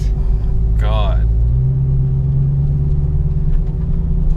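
A 2018 Dodge SRT Demon rumbles with a deep, steady engine drone from inside the car on a ride-along, loud and continuous, with a brief voice near the start.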